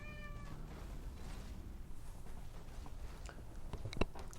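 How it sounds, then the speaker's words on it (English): A house cat meows a few times close by during a tabletop-style game session, short plaintive calls with quiet room noise around them. "Cat has just decided to join in again."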